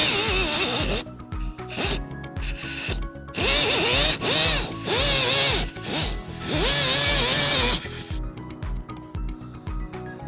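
A power tool cuts through the rear bumper of a 2020 Tesla Model S for a trailer hitch install, buzzing in close, loud bursts with brief pauses and stops between passes.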